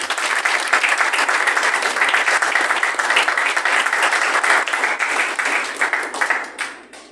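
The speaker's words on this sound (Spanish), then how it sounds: "¿Por qué no le das un aplauso al Señor?" Loud, sustained applause from a church congregation fills the space evenly for several seconds before tapering off at the close.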